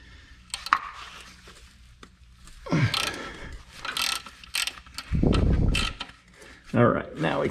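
A wrench works engine bolts loose on a 1982 Camaro's 350 motor, giving ratcheting clicks and metallic knocks with a few louder scraping bursts, close and mid-loud.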